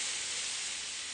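A steam pump hisses steadily in the video game Lethal Company, a continuous loud broadband rush with no breaks or talk.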